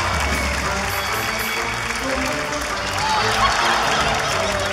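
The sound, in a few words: applause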